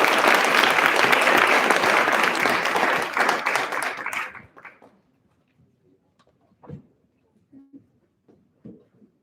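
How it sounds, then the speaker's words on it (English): Audience applause at a 2023 reformed felons panel, a dense, loud round of clapping that fades out after about four seconds, followed by quiet room sounds and a few soft knocks. "Could we all give them a round of applause, please?"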